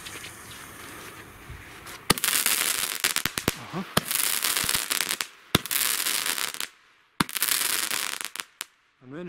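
A rapid string of New Year's Eve firework bursts and crackling reports, loud and close, coming in dense volleys separated by brief silences.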